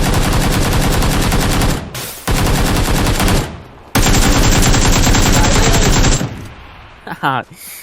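Sustained automatic rifle fire in PUBG Lite on PC, loud and close, in long continuous bursts broken by a few short gaps, ending in scattered quieter shots.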